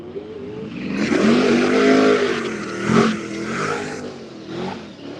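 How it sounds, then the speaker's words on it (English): Turbo drag race cars at a street car shootout elimination rolling up to the starting line, a loud steady engine drone with a swelling rev around the middle, close by. "These turbo cars are so quiet, I didn't even hear them pull up."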